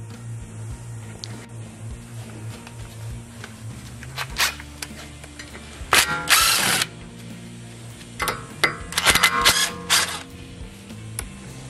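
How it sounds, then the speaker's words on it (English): A small electric DeWalt impact driver with a Phillips bit backs Phillips screws out of an Acura front brake assembly, giving several short loud rattling bursts between quieter workshop noise, close up and with no speech. "I'm just using a little electric DeWalt impact with a Phillips bit on it."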